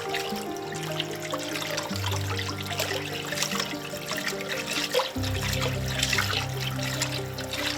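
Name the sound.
water being poured into shrimp boil pot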